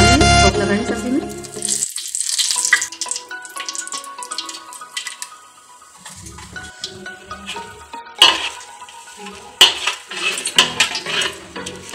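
Bay leaves and cinnamon fry in a pan, giving bursts of sizzling alongside clattering utensils and a few tonal clinks, loud at first, then quieter with scattered scraping and stirring, with no speech.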